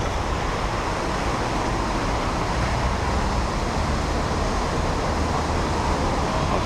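Dense, continuous roar of traffic on a busy road in Torrevieja, vehicles passing close by in a steady wash of tyre and engine noise with no pauses.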